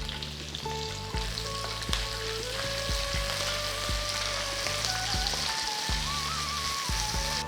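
Thinly sliced onions and curry leaves sautéing in a pan, a dense continuous sizzle and crackle close up, with spoon clinks and stirring scrapes at irregular intervals.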